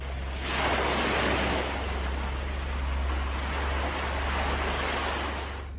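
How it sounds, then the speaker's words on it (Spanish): Rushing water and breaking waves surge in quickly, a broad, steady roar of surf that swells loudly after the first half-second and holds, with wind-like hiss and no voices. "Era el sonido del agua que se acercaba rápidamente"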